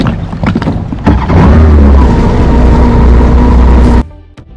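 A Kawasaki Ultra 310 jet ski with a 1500cc supercharged four-cylinder marine engine runs loud and close, a steady deep drone with wind and water rush that rises after a second, holds, then cuts off abruptly.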